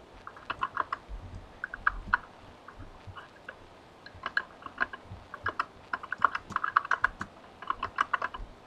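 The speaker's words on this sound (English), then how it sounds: "your keyboard is loud when you type" Rapid clattering keystrokes on a computer keyboard come in irregular bursts with short pauses, close and crisp.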